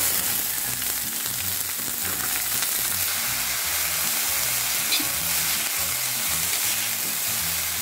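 Bean sprouts hit salted fish frying in a hot wok, a loud continuous sizzle with rhythmic stirring scrapes running throughout, close up and without talk.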